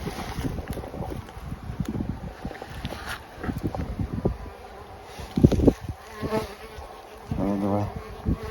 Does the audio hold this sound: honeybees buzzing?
yes